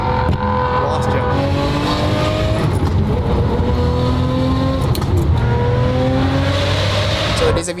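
A Ferrari 599 V12 engine revs loud and close, with rising and falling engine pitch sustained throughout, while people talk over it.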